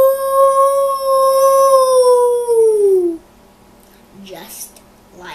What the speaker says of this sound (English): he howled loudly as he could.